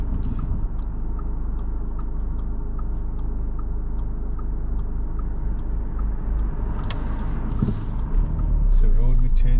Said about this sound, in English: So there's a car coming.